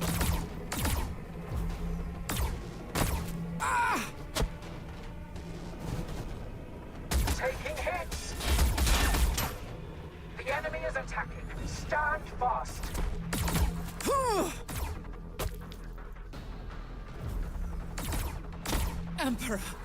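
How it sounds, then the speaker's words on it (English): Sharp bursts of gunfire and heavy weapon blasts crack repeatedly in a Warhammer 40k Battlesector battle, irregular volleys over mechanical creaks, with in-game voices talking between shots. "We are taking fire. We're under fire."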